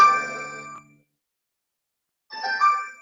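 A phone rings with an electronic tone in two bursts separated by more than a second of silence. The pattern repeats like a ringtone, fairly close and clear.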